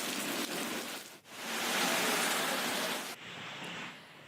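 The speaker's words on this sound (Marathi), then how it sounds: "वर्ध्यामध्ये सुद्धा आज जोरदार पाऊस झालाय" Heavy monsoon rain falling steadily in Wardha, Maharashtra, a dense broadband hiss that stays loud throughout with a brief dip near the start and a slight change in texture toward the end.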